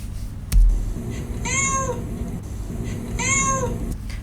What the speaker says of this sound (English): move some of my keyframes to match up the audio keyframe here where the cat is meowing